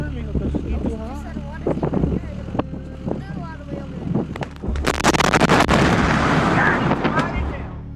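A fertilizer plant fire erupts in a loud, sustained blast roar that follows a stretch of crackling, rumbling disturbance. Voices are heard in the background.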